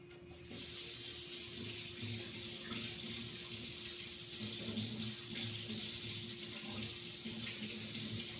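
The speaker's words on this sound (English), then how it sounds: "So I need to get some warm water." A faucet switches on and runs steadily, warm water pouring continuously into a sink at close range with no talking.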